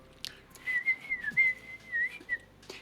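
A person whistles a short, wavering tune that imitates a character's idle whistle while polishing a glass, with clear sustained notes rising and falling over a few seconds in a quiet room.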